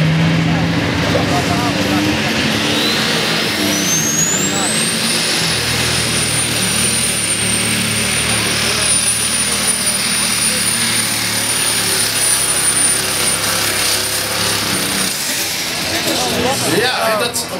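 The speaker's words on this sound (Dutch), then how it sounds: "Trekker niet helemaal op toeren." Tractor engine at a 2011 tractor pulling event in Eext, the 'Silver Bullet' not reaching full revs: a loud, sustained roar with a whine that climbs over the first few seconds, then holds steady before easing near the end.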